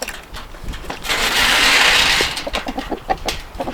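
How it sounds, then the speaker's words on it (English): Roosters in a barn cage clucking, with short close clucks over a broad rustling, scratching burst that swells in the middle and then fades back to scattered clucks. "Hey, my rooster friends."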